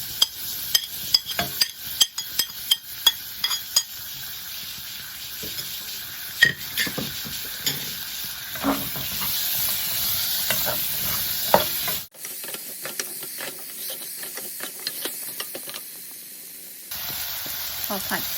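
Spring onions and potatoes sizzle in butter in a pan, with a continuous frying hiss and repeated scraping stirs of a utensil that carry on throughout, up close. Someone speaks intermittently over the cooking.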